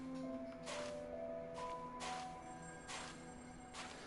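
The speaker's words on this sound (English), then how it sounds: "That is one of my family's phone alarms." A phone alarm rings on and on in the background of a home while a VR game plays, repeating electronic tone bursts at a steady rhythm over constant game sound, fairly faint.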